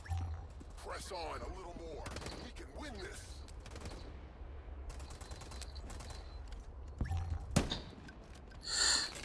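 In an Urban Heat video game, bursts of gunfire and mechanical reload clicks crackle at moderate volume, followed by a sharper blast from a grenade explosion near the end, while a player talks throughout.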